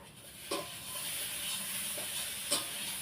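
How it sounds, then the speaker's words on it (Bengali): Ration rice cooking in a pot, a soft steady steaming hiss with a few faint clicks and knocks, quiet and close, no talk. "আর ভাত রান্না করি রেশনের চালের ভাত"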